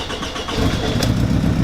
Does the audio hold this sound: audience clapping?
no